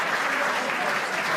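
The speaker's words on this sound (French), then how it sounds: "vous pouvez les applaudir une nouvelle fois dans cette deuxième demi-finale qualificative" Audience applause for boxers at an amateur boxing semi-final fills the hall in a dense, steady wash of clapping, with voices faintly mixed in.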